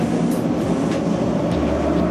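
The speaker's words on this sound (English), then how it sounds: "It's the metro, the subway train." A steady low rumble of a Moscow metro train running just outside a bunker door, a continuous roar with faint rhythmic rattling and no voices.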